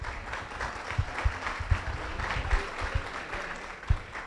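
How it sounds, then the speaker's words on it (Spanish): An audience at a food-ingredients industry conference summit claps for a speaker, a moderate, somewhat sparse patter of hands with a few sharper individual claps, heard without speech. "Un fuerte aplauso para Melissa."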